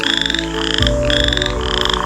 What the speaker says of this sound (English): the frog started croaking near a deep pit.